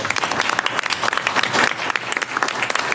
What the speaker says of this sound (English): I think everyone deserves a round of applause here.